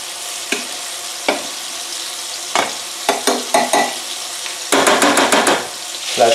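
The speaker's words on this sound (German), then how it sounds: "rühre ich mal den Bulgur schon um." Bulgur is stirred in a pot over nearby frying meatballs, with a spoon knocking and scraping several times in irregular bursts, ending in a quick run of clatters over the constant sizzle.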